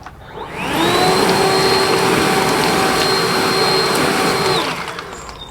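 Ryobi 40V HP battery-powered leaf blower switched to turbo, spinning up to a loud steady whine with a rushing airflow roar, holding constant for several seconds close by, then winding down, with no one talking.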